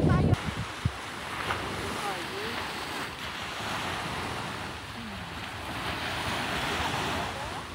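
Surf rolls and hisses steadily at Ajman Beach, UAE, while wind buffets the microphone, with a few brief bumps at the start.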